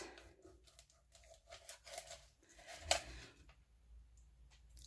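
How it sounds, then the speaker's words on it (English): A knife cuts into an oven-baked potato bomb stuffed with sausage and bacon, giving soft crunchy crackles and a sharp crisp snap near the middle, close and fairly quiet, with no talking. "So now when I cut into this,"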